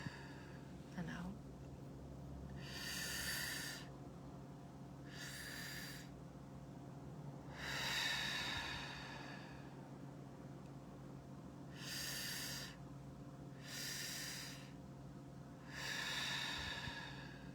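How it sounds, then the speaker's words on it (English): Slow, deep breathing exercise drawing air into the belly and chest, with six long, clear breath strokes several seconds apart, close and fairly quiet over a steady low hum, with no talking. "breathing into the belly, taking up space, filling up the heart, opening the shoulders, breathing out."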